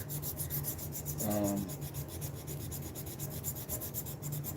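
Steady, soft rasping of 220-grit sandpaper rubbing over wood, continuous and fairly quiet, with a slightly brighter scrubbing burst partway through.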